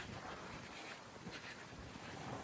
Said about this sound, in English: It is really pretty windy, cool.